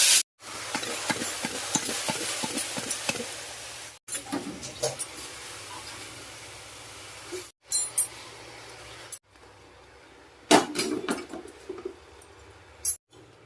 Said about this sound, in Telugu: ముందు పోపు వేయించేసుకుందాం. కాస్త నూనె, ఆవాలు, జీలకర్ర, కాస్త ఎండుమిరపకాయ ముక్కలు.